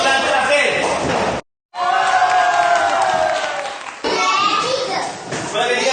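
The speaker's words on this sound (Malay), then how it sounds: "betul tepuk tangan" Young children in a classroom clap and cheer together in a loud burst, a dense crowd of small hands and voices with a brief pause before the applause and chatter resume.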